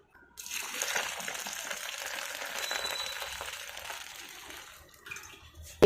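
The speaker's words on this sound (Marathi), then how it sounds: "आता याच्यामध्ये आपण पाणी टाकून घेऊयात" Water pours steadily into a cooking pot for about five seconds, a continuous splashing gush that stops, followed by a short knock.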